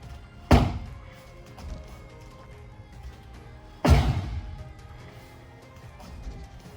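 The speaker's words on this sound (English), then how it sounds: "That's actually the sound of his foot on the target." A turning kick lands on a target pad twice, each strike a loud, close, dull thud spaced a few seconds apart, with quiet room noise between.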